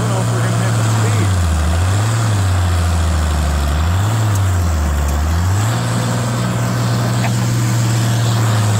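An Allis Chalmers 190XT Series 3 tractor engine labouring in high first gear while pulling a three-shank Allis subsoiler, a loud, steady diesel drone that dips and rises in pitch as the load varies, with a voice talking over it.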